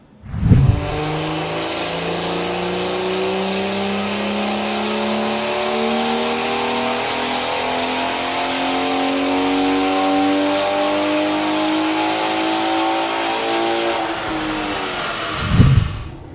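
Cupra L450 running a Stage 2 Plus tuned map on a dyno, a short blip at the start, then one long sustained pull with the engine note climbing steadily and loudly before cutting off, followed by a final blip.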